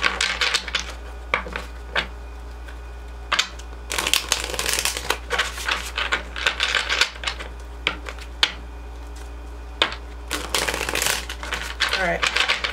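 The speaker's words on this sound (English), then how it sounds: "I'll shuffle through these one time and see what comes out of this deck here." A deck of tarot cards being shuffled up close in repeated riffling bursts, crisp papery flutters with short pauses between, over a low steady hum.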